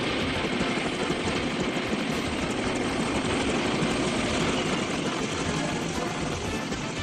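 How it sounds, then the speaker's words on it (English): A helicopter runs loud and close, a dense continuous roar of rotor and engine noise that holds steady throughout as if readying to lift off, with no voices. "Nobody breathe until that helicopter takes off."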